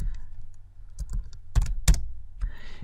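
Computer keyboard typing in a quiet room, a few scattered keystrokes with two sharper, louder clacks near the end and no talking.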